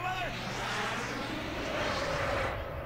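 Butterhawk plane in Plants vs. Zombies Garden Warfare 2 drones steadily with a loud, continuous engine roar filling the whole moment, with game effects layered over it.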